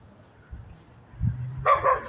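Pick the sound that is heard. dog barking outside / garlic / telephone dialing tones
dog barking outside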